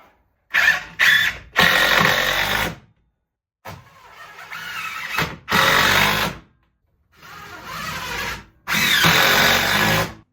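A power drill mounting a Harbor Freight hose reel near an air compressor, several loud close bursts of whirring motor separated by short silences, some bursts straining and uneven as screws drive in.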